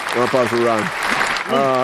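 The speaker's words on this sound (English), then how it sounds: "Round of applause for Ron." A crowd applauds, the clapping running under a voice that talks over it.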